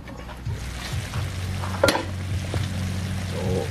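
Pork pinatisang baboy sizzles steadily in a pan while a utensil stirs and scrapes it, with a sharper clank near the middle, close and continuous.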